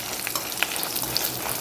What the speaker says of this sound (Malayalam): ഇനി നമുക്ക് എണ്ണയിൽ ഫ്രൈ ചെയ്തെടുക്കാം.